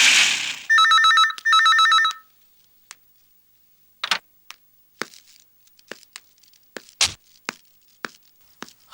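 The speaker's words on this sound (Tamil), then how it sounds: "உள்ள போன் அடிக்குது, போய் யாருன்னு பாரு போ." A telephone rings inside a house in two bursts of electronic trilling, loud and close, followed by scattered rustling and knocking handling sounds.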